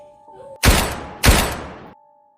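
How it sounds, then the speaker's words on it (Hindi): Two loud gunshots ring out about half a second apart, each with a sharp crack and a booming tail that fades into a quiet hum. "यह देख करण अपने आप को रोक नहीं पाई, और मजबूरन उसके दोनों पैरों में गोली चलानी पड़ी।"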